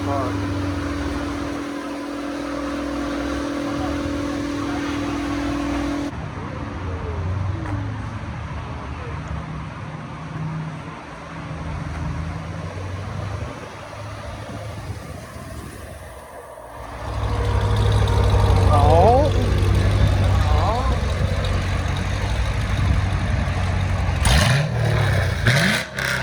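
Straight-piped 2011 fifth-generation Camaro SS with its catalytic converters removed, its V8 rumbling at a loud, steady idle before sharp revs swell the exhaust to a louder, rasping roar, with scattered talk over it.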